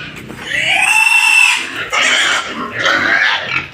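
Several farm pigs sold off a provincial Philippine farm squeal loudly and continuously at close range in long, shrill, overlapping cries with brief dips between them.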